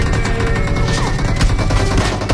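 Rapid gunfire from a team deathmatch round in a multiplayer shooter video game, a dense, continuous burst of overlapping shots and bangs filling the whole stretch at steady loudness with no talk over it.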